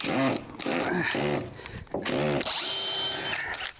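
A power drill backs screws out of an old deck, loud, with repeated whirring bursts that rise and cut off over a few seconds, and a longer steady run at the end.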